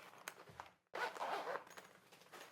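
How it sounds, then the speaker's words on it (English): A Mendini flute case zipper is pulled open in one quick, close, raspy run, preceded by a few faint handling taps and followed by soft rustling. "It zips open pretty easily."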